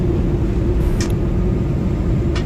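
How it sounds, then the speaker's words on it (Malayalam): Steady, loud cabin roar of an airplane descending to land on a flight from Calicut to Abu Dhabi, a continuous low rumble with faint higher hiss throughout and no talking. "ഫ്ലൈറ്റ് ലാൻഡ് ചെയ്യാൻ വേണ്ടിയിട്ട്."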